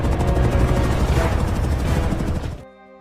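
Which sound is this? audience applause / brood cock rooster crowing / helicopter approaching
helicopter approaching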